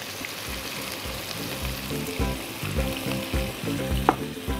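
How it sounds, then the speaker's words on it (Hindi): Boneless julienned chicken with sliced green chillies and black pepper sizzling and frying in a pan, with a busy crackle and occasional stirring clatter, close and fairly loud. "और इसको अच्छा सा फ्राई होने देते हैं।"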